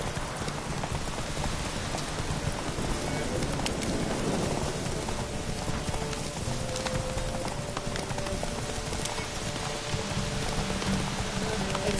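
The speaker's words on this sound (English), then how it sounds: "It's raining cats and dogs." Heavy rain pours in The Witcher 3: Wild Hunt as a constant loud hiss, with a horse's hooves clip-clopping beneath it throughout.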